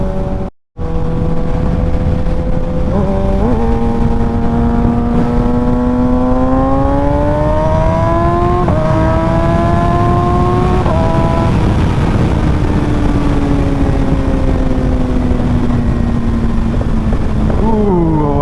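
A Kawasaki Ninja ZX-6R supersport motorcycle engine revs up through several rising pitch sweeps, loud and close, holding a strong steady drone with brief drops between gear-like steps.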